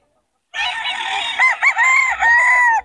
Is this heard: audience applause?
no